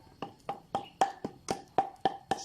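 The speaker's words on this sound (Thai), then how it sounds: "แล้วก็ใช้ค้อนหนึ่งค่อย ๆ ตีนะครับ" A hammer taps gently on an upturned cement flowerpot mould: eight crisp, evenly spaced knocks about a quarter second apart, close and fairly quiet, with no voices.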